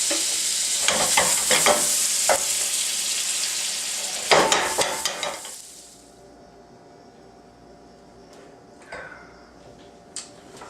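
Sizzling in a pan as alcohol cooks off while a Caesar salad is being made, a loud crackling hiss with a few sharp scrapes of stirring, then quieting to faint sizzle and occasional clinks.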